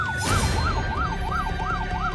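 A loud wailing siren from inside a moving ambulance sweeps up and down in a steady repeating cycle over a low engine rumble.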